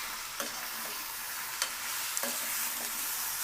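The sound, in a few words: marinated chicken being stirred and frying in a pan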